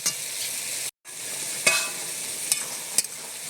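Taro leaves cooked with prawns are stirred in a pan, giving a steady frying hiss and a few crisp spatula clicks and scrapes. The sound cuts out for a brief moment near the start.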